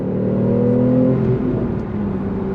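A Porsche 911 engine blips and drops in pitch through a downshift, a loud close harmonic growl that sags and settles into a steadier drone, with no voices.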